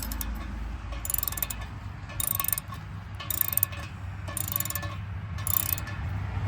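Socket wrench ratcheting while tightening an expansion bolt that anchors a post, heard as bursts of rapid clicks about once a second over a steady low background hum.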